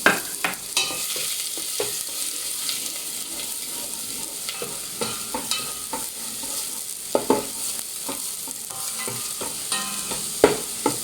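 Onions frying and being stirred in a pot for Filipino adobo pasta: a steady close sizzle with repeated scraping stir strokes and occasional clacks of a utensil against the pot, no voices.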